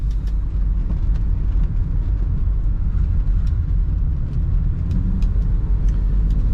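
A 1991 BMW 325i convertible with a manual top accelerates around a corner, giving a steady, full engine and road roar that holds for several seconds with no talking.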